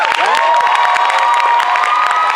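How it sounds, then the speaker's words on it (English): An audience at a Sydney cosplay championship applauds and cheers loudly and steadily, with whoops rising above the dense clapping and a tone ringing through. "Can we please have a big round of applause for all of our contestants today?"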